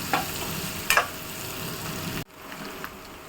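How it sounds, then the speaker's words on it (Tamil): Onions sautéing in a pan for chicken biryani give a steady close sizzle, with a couple of brief stirring scrapes early on before the sound drops quieter near the end. "பாருங்க, நம்ம வெங்காயம் பாதி வதங்கிடுச்சு."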